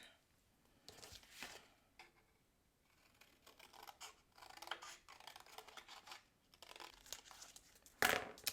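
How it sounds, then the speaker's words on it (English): Scissors cut through a traced paper card, giving faint, close snips and crinkles of paper in short irregular bursts against a quiet room. "We have it traced, and now we're just going to cut it apart."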